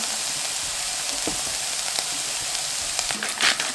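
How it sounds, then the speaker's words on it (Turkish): Ingredients, probably for kısır, frying hard in a hot pan: a loud, continuous close sizzle with brief clicks of stirring and a burst of sharper crackling near the end. "Bunu iyice kavuracağım."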